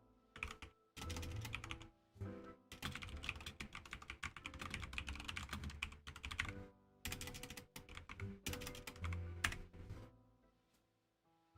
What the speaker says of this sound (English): Maybe if I type it in, I can find it.